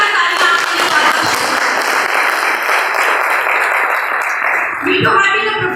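An audience claps loudly and steadily for a product launch of a water purifier, a dense wash of applause that fills the whole stretch, with a voice speaking over it near the end.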